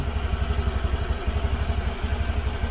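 A Honda Click 150 scooter engine runs close by, a steady rhythmic putter with faint mechanical clatter and no talking.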